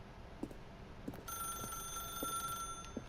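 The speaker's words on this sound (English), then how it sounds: "then pick up the phone." A telephone ringing in the video game The Stanley Parable, a sustained electronic bell tone that starts partway in and holds steadily, faint and alone apart from soft periodic ticking beneath it.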